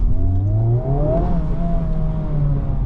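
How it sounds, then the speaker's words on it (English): Honda Civic Type R FL5 fitted with a Spoon intake, engine droning and revving under load with a steady, close whirring tone that rises gently and settles. "It's just the engine sounds that are annoying now."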